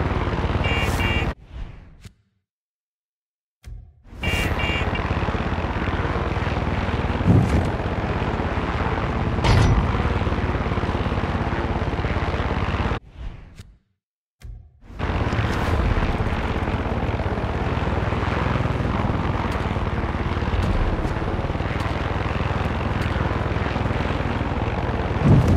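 Aircraft flying in the video game Far Cry 6, a loud sustained engine roar that runs almost without a break, cutting out twice for a moment and then returning at full strength.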